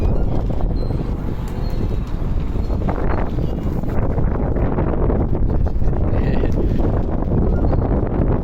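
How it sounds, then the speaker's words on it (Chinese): Strong wind buffets the microphone beside a new boat, a loud, constant low roar with gusty rumbling and no pauses. "今天这个风很大"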